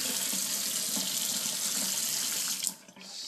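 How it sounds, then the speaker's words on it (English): Cold city tap water runs steadily from a faucet into a cup, a close, loud, continuous splashing rush with no talk, changing pitch near the end as the flow is slowed or the cup fills. "Get our city faucet over here. Take the cup, get some cold water on it."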